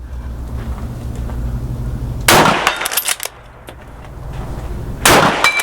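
Two loud, sharp gunshots from a French MAS-36 bolt-action rifle at a shooting range, spaced about three seconds apart, each with a ringing decay, heard close against a low background rumble.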